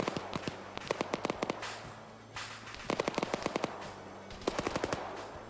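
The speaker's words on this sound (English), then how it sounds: "Still taking fire here." Bursts of automatic gunfire in Arma 3, repeated volleys of sharp rapid shots with steady battlefield noise between them, loud and close, no talk.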